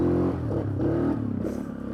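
A Suzuki KingQuad 750 ATV in low range revs up, its engine note rising and falling in pulsing surges with some mechanical clatter, close and fairly loud outdoors.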